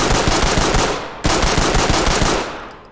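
Rapid pistol fire in the tactical shooter Ready or Not: two fast, loud bursts of closely spaced shots, each followed by a short fading echo.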